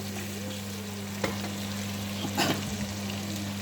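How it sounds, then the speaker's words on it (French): Onions gently frying in a pan, a soft steady sizzle over a low hum, broken by a couple of brief stirring scrapes. "on va laisser mijoter un peu les oignons"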